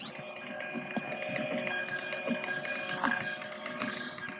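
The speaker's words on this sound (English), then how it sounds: "The Titan Series Industrial Printer, fast printing, fantastic quality." A Titan Series industrial thermal transfer printer runs steadily, giving a continuous mechanical whir with faint rhythmic ticks and clicks at moderate, close level, no voices.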